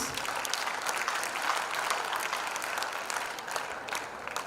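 An audience at an international Indian school's annual prize day claps for a third-place prize winner, a continuous crisp round of applause at moderate volume, slightly tapering toward the end, no talking.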